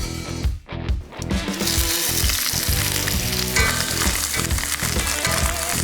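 Cooked tripas frying in a very hot Yeti cast iron pan, a loud, dense, continuous sizzle with crackling and stirring scrapes throughout, close up with no talking.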